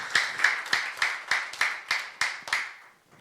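A church youth congregation claps in unison during a sermon, eight or nine evenly spaced sharp claps at a steady moderate rhythm, fairly faint and with no talking over them.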